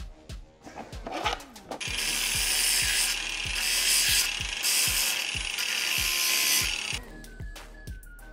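A hand ratchet turns a nut down onto a stud while a Subaru is being modified. It clicks in a close, steady run of repeated strokes for several seconds, with a few louder clunks before it starts, and there is no talk.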